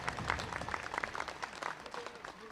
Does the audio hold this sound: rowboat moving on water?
no